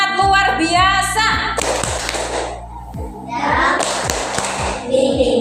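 Students in a classroom clap through a patterned ice-breaker routine, with sharp taps and thuds in quick rhythmic groups mixed with children's voices, a speaking voice and a looping music beat underneath.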